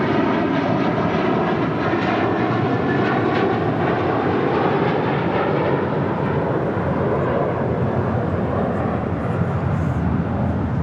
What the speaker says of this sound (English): That was Hawaiian Airlines Flight 3 heading to Honolulu, taking off there on the north side.